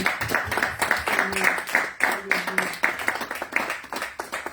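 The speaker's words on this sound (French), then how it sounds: "Acclamons très fort le Seigneur" A church congregation claps in rhythm while acclaiming the Lord, with steady beats carried under singing and vocal sounds throughout.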